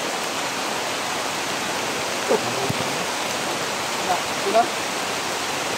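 Steady rain falls outdoors as an even, hissing wash with no breaks, fairly soft and continuous, while a few brief voices speak over it.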